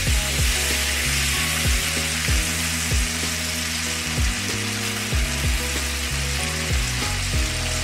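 Tomatoes cooking down in a pan for Tuscan chicken give a steady, even sizzle that runs the whole time beneath a layer of background music.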